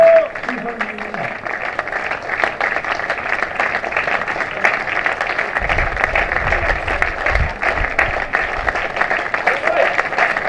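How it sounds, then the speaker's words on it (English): Applause from the spectators at a Gloucestershire v Leicestershire county cricket match greets batsman Ben Charlesworth, a steady, moderately distant patter of clapping that runs for about ten seconds, with a faint voice briefly audible near the start. "let's hear the applause for Ben Charlesworth"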